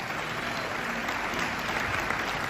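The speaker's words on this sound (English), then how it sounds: "Clap your hands, everybody" An audience at an anniversary conference claps in a dense, sustained round of applause that stays fairly even and moderately loud throughout.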